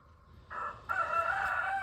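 A rooster crows from a backyard chicken coop on a cold winter day, a short call followed by a longer sustained crow, loud and near with no voices.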